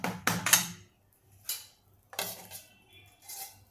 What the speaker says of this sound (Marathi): हे आपण आता झाकून ठेवून देऊ